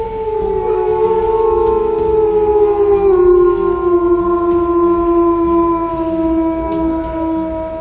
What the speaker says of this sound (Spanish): saca ese gran aullido